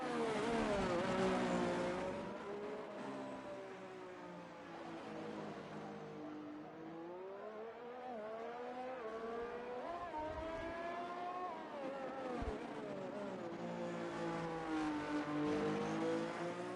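A race car engine in a racing video game sweeps up and down through the gears on a hot lap at Baku, a steady high whine rising and falling in pitch with no talk over it.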